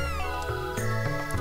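A few short cat meows from Chrono Trigger, sounding close and clear over steady synthesized game music.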